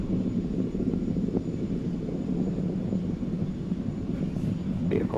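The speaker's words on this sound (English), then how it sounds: "Falcon 9 has cleared the tower and is now headed upward on its mission to sun-synchronous low Earth orbit" Falcon 9 rocket climbing after clearing the tower on a launch to sun-synchronous low Earth orbit: a steady, distant low rumbling roar with wind noise throughout, fairly faint.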